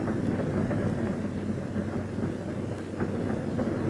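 A diesel-electric freight locomotive on the Maybrook Line starts an eastbound run toward Poughkeepsie, giving a steady low rumble with faint rail clatter throughout and no talk.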